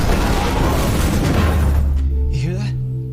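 Grenade explosion in a film, a loud booming blast with a debris rumble that fades into low tonal ringing over about three seconds.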